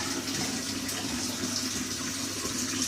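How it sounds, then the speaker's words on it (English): Tap water runs steadily into a sink while a small dish is rinsed under it, a close, continuous splashing flow with no talk. "now what I need is to wash my little dish out"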